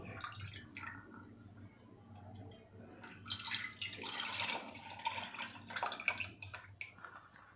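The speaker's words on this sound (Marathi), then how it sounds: "त्या डब्यामध्ये आपण हे सगळं दूध ओतून घेणार आहे" Milk poured into a metal tin while making sweet cheek vadi, a steady liquid stream with splashing and dripping that swells and fades, close and fairly quiet over a low background hum.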